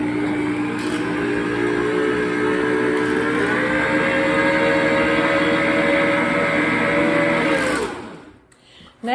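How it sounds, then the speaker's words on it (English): A stand mixer beats three sticks of softened unsalted butter, a steady close motor whine that runs evenly for several seconds and then winds down to a stop near the end. "So I have 3 sticks in my mixer. I'm going to turn it on and get it started."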